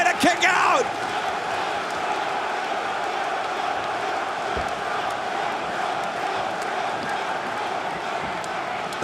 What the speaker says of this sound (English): The crowd exploding in Lowell.